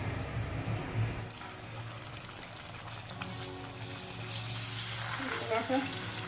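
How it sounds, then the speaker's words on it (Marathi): Puris dropped one at a time into well-heated oil for pani puri, giving a steady sizzling hiss that swells toward the end, with faint voice-like tones underneath. "तेल बऱ्यापैकी तापलेलं आहे आता आपण हे काढून देऊ आता एक एक पुरी आपल्याला अशी सोडून घ्यायची"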